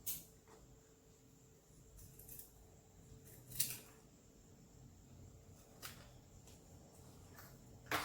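Scissors cutting fabric for an umbrella holder, heard as faint, scattered snips and crisp clicks at irregular intervals over a quiet background.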